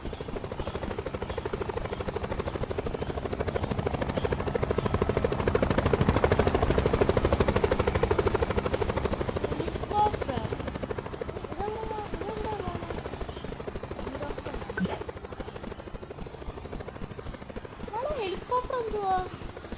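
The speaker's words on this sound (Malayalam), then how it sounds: "ഹെലികോപ്റ്റർ" A helicopter in a computer video game: a broad whirring rotor roar swells to its loudest midway, then recedes beneath a person talking over the game sounds.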